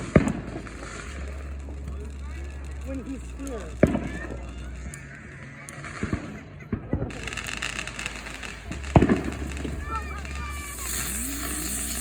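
Neighborhood fireworks pop and bang in several sharp bursts, a few close and loud, spread across the stretch while people talk nearby over a low outdoor hum.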